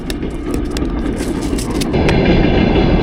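A train pulls in near a sport fishing pond, a steady rumbling roll that grows slightly louder toward the end, with faint rail clatter and no speech.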